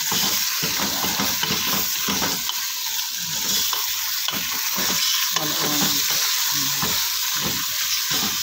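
Chicken biryani ingredients being stirred in a sizzling pan, a spoon scraping and turning the mix in repeated strokes over a constant frying hiss, close and fairly loud.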